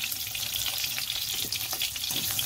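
Mixed vegetables for a vegetarian curry fry in oil, including potato and taro, giving a steady close sizzle with occasional soft stirring clicks throughout.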